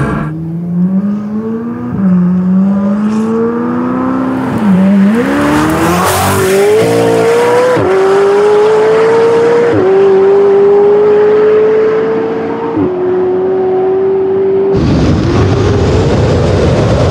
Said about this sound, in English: Or I just go when I hear his car.